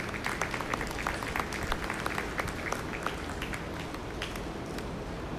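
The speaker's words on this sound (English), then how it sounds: "give all these exhibitors out here for selection of your best bred known heifer of the show a big round of applause" Steady crowd applause at a 4-H/FFA dairy show, honoring exhibitors after selection of the best bred-and-owned heifer, with sharp individual claps sustained evenly throughout.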